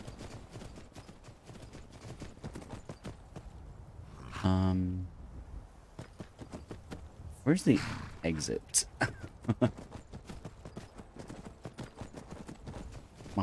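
Horse hooves in the video game Skyrim clip-clop in uneven bursts of sharp knocks over a quiet ambient backdrop, with a louder cluster near the middle and a voice talking at times.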